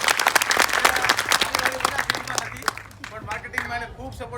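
An audience bursts into loud, fast clapping that fades after a few seconds. Spoken voices carry on over and after the applause.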